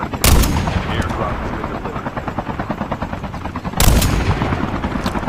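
A helicopter battle in Call of Duty Mobile battle royale: a steady pulsing rotor drone runs throughout while two loud bursts of gunfire break through, one near the start and one later, with the rotor chop staying prominent between them.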